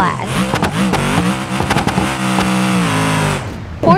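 Mercedes G-Class driving off-road, a loud close engine revving with shifting pitch and bursts of acceleration, ending in a quick rev.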